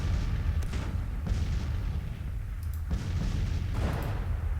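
Cannon and artillery fire in the Civil War strategy game Grand Tactician, a continuous rumbling barrage of deep booms with several heavier blasts standing out at intervals, loud and without speech.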